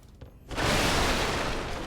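A crystal lizard in Dark Souls III sets off a sudden dense, bright crystalline burst that swells in and then holds loud and sustained.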